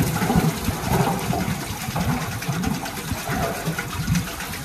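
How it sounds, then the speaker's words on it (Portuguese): A rodão water-wheel pump turns at a cattle water source, its worn seals leaking and dripping; steady splashing, gurgling water with a faint rhythmic churn, close and continuous, no talk. "Olha lá, o rodão rodando."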